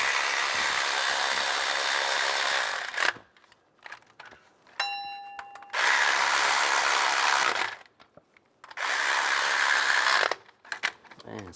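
Power tool tightening bolts and nuts on the water pump bypass tube of a 2002-2008 Dodge Ram 1500, three long steady whirring bursts separated by short pauses, close and fairly loud.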